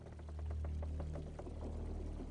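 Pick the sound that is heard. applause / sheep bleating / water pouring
water pouring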